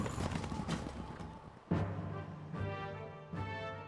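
Several horse hooves clop in spaced, irregular thuds in the video game Stronghold, mixed with music and a faint whinny-like tone.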